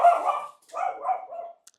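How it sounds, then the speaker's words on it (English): A pet dog named Arnie barks indoors, two or three sharp close barks in quick succession followed by a short yip, alone and loud against a quiet kitchen. "That's our dog, Arnie."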